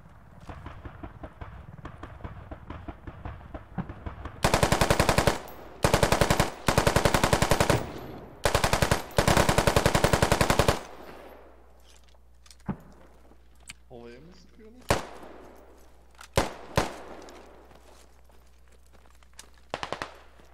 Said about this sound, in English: I just emptied a whole LMG clip on those four guys crossing into G7